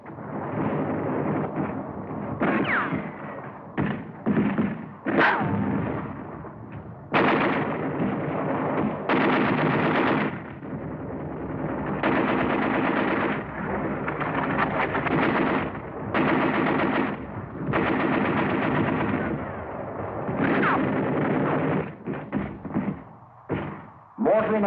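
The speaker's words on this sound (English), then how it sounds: "they encountered wires, mines, and automatic fire from pillboxes." Battle of San Pietro combat with dense bursts of automatic fire from pillboxes and booming artillery, loud and continuous with rapid rattling volleys and heavy thuds, under narration.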